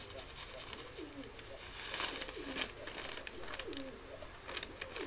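Racing pigeons cooing in a loft, repeated soft throaty coos in a loose rhythm, fairly faint and close, with light rustling and background noise.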